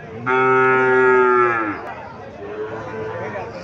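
Cattle at a Comilla cow market, where young Nepali and Sahiwal bull calves are for sale, give one long, loud, close moo with rich harmonics, followed by a softer market bustle of murmuring voices.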